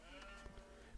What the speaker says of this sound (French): Ah, il y a des petits moutons là.